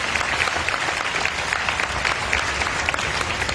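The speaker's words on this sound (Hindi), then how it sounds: "जोरदार तालियां बच्चों के लिए" A church congregation claps loudly for the children, a dense, steady round of applause filling the room with no talk over it.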